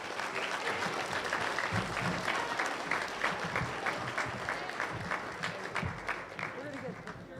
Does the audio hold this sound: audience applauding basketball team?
yes